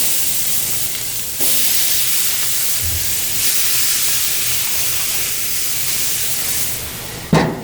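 Food laid onto a hot grill gives off a loud, steady sizzling hiss that swells and holds for several seconds, ending with a short sharp clank.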